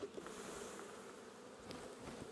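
Honeybees buzz in a low, steady hum as a hive frame is shaken, the sound faint and continuous for a couple of seconds with a few slightly louder passing buzzes.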